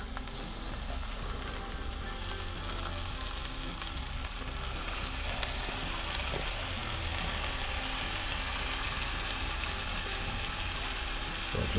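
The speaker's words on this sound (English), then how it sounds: "Just give them a slight sear." Ocean perch fillets sear in a hot pan with a steady, loud sizzle and crackle that holds throughout, swelling slightly midway, with no voices.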